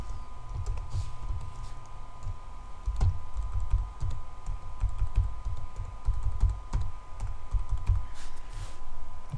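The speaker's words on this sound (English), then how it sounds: "type in the order number" Rapid typing on a computer keyboard, with close, crisp key clicks in an irregular but steady stream, some heavier presses standing out, with no talking.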